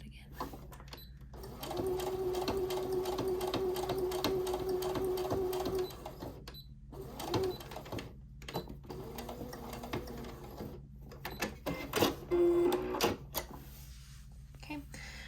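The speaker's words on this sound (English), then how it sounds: "So I just top stitched right along the edge" A sewing machine top-stitching along the edge of shorts fabric runs in a steady whirring burst of about four seconds, then in shorter stop-start runs, close and clear, with a voice talking at points.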